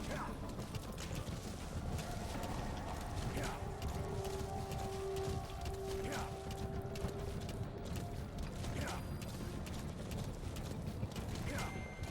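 Horse galloping in a video game, with a steady clip-clop of hooves and mechanical clicks under continuous game sound and music, holding at a moderate level throughout.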